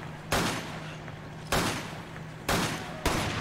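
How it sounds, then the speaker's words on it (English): Four loud, sharp gunshots from Resident Evil 5 co-op gameplay on PS4, spaced irregularly across a few seconds, each with a brief decaying tail over a steady low hum. "I shot him in the leg."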